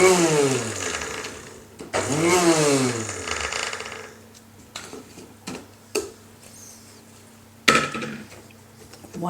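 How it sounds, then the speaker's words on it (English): A small food processor whirs loudly as it finely chops chillies for chilli jam, the motor spinning up and down in a few quick blitzes before falling quiet, with brief clatters between bursts. "ready to go into my little food processor here to finely chop them"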